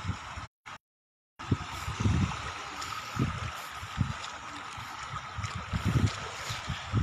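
Small sea waves on a windy coast at Cabadbaran City wash softly and continuously, mixed with gusty wind noise. The sound drops out briefly near the start.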